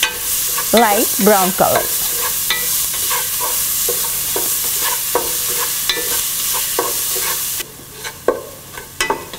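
Onion, ginger and garlic sautéing in a pan, a loud continuous sizzle broken by repeated sharp scrapes and taps of a spoon as the mixture is stirred. A voice speaks briefly.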